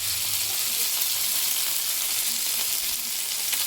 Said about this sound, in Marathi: तर इकडे बोंबील फ्राय होतात आहे